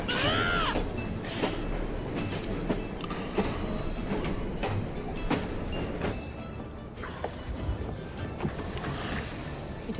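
A train rumbles and clatters along the tracks in Assassin's Creed Syndicate, with steady loud rolling noise, a brief squeal early on and repeated sharp clanks throughout.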